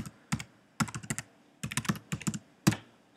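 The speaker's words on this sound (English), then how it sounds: "So we'll type in" An email address typed on a computer keyboard, with crisp key clicks arriving in short uneven bursts and pauses between groups, close and clear with no voices.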